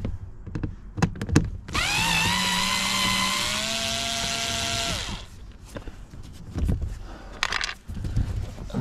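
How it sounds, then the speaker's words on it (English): A low-powered handheld drill removing fixings under a Range Rover L322 gives a steady, fairly loud whine for about three seconds, set between scattered knocks and clunks of working on the car. "I like to use a little handheld drill. It's just low powered"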